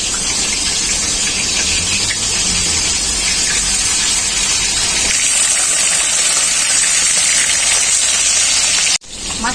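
A piece of fish fries in hot oil, a loud, steady, close-up sizzle and spatter that roars throughout and then cuts off abruptly near the end, with no talking.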